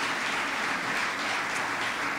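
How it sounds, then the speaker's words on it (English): An audience in the Pythian Theater applauds in a steady, dense wash of clapping that lasts the whole moment, loud and continuous, with no voices standing out. "I believe that deserves a round of applause."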